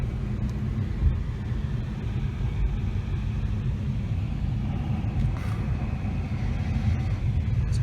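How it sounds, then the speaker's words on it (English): A Jaguar XE turbo car engine hums as a steady low rumble heard from inside the cabin while driving, with road and wind noise and no one speaking. "Let me turn off the AC a little bit later so you can hear that engine roar."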